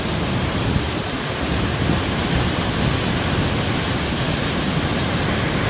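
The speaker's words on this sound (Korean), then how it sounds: "잠시 근접해서 화려한 폭포와 폭포 소리 제대로 감상하시겠습니다." Hongryong Falls, a large waterfall at a temple site, roars as a steady, loud, dense wash of falling water with no voices over it.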